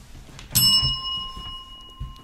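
A single bright bell chime rings out on a Polish-language radio broadcast, striking once with a clear metallic ring that lingers and fades over about two seconds, set against a soft low background murmur.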